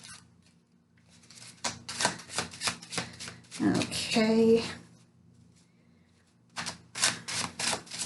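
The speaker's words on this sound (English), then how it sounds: "One more shuffle." Tarot card deck being shuffled in bursts of crisp riffling and flicking, with a pause where a voice briefly speaks, then another quick shuffle near the close.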